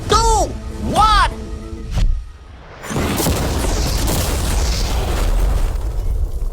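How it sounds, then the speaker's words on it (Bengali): An ordinary car packed with mannequin passengers is blown apart: after a few seconds of voices, a sudden loud blast hits, then a broad, roaring rumble of debris that keeps going to the end. "বিস্ফোরণটা এত জোরে হয়েছে যে ভিতরের ম্যানিকুইন গুলো ছিটকে এদিক ওদিকে বেরিয়ে গেছে।"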